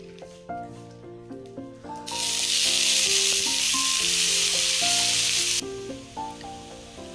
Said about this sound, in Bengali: তো চলুন লাল শাকটা ভেজে নিই